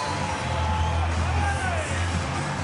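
Rugby league crowd at a night football match, Manly versus Bulldogs at Brookvale, cheering and roaring after a successful conversion, a steady broad wash of distant noise under a commentator's voice.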